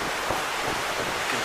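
A roaring wash of hurricane wind and rain, steady and broadband, with gusty swells, gusts around 70, and no voices.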